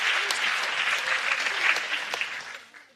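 Audience applause at a talk on fighting the far right in daily life, dense steady clapping from a crowd, fairly loud and close, tapering off at the end.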